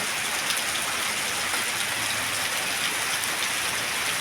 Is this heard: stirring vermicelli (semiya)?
no